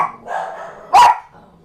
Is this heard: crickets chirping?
no